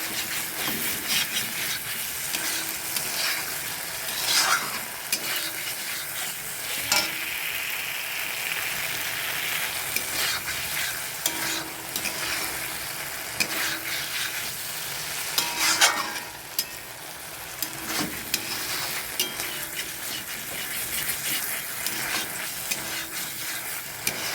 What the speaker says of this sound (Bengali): আর এই মটরশুঁটিগুলো আমি দিয়ে দিলাম। একটু ভাজা ভাজা হোক